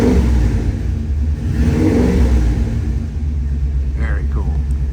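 A 1951 Ford Woody Wagon County Squire engine idles with a steady low rumble, swelling into a brief rev around the middle, close by with some background voices.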